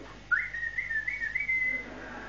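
A single person whistles a short rising tune, a couple of seconds long, fairly close and clear against a quiet background.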